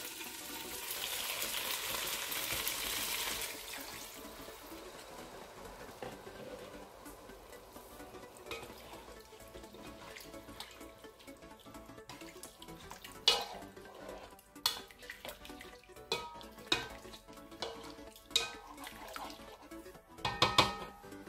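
Water poured into a pan of mustard chicken sauce with onions, a broad rushing hiss at first, then a steady low sizzle broken by scattered sharp clinks and stirring knocks.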